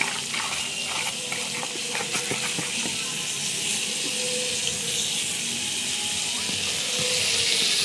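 Eggplant pieces, cut large, frying in hot oil give a steady broadband hiss and sizzle throughout, with a few faint clinks of utensils and no speech.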